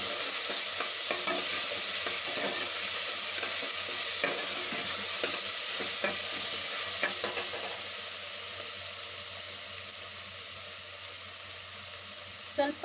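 Ginger garlic paste and curry leaves fry in a pan with a steady, dense sizzle, broken by occasional stirring scrapes; the hiss fades slightly toward the end.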